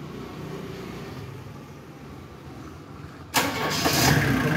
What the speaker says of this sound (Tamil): வண்டியை வந்து ஸ்டார்ட் பண்ண போகிறாங்க